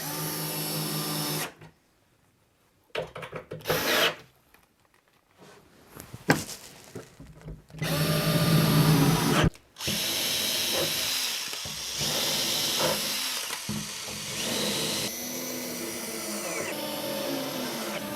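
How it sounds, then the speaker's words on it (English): Bandsaw cutting an MDF board in a workshop: bursts of loud broadband hissing and whirring separated by abrupt silent gaps as the machine starts and stops. "I'm going to use the bandsaw to cut it"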